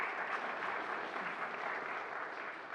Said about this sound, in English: we're clapping for that